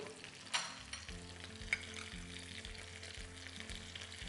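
Prawns are stir-fried with desiccated coconut in a hot pan, a steady soft sizzle with a couple of sharp scrapes and clatters from stirring, close and fairly quiet, with no talk.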